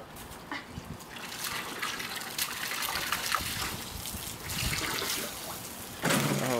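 Water gushing and trickling while a husky puppy plays in it, a steady splashing flow throughout with brief louder bursts near the end and no speech.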